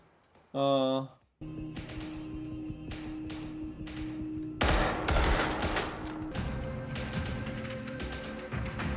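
Gunfire from a Squid Game season 2 episode, sustained bursts of shots from about the middle of the clip under a musical score, with people talking over the scene.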